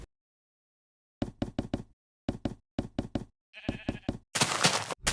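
Blocky Minecraft sheep give short, clipped bleats in quick bursts of three or four, separated by brief silences, followed by a rougher noisy rustle at the end.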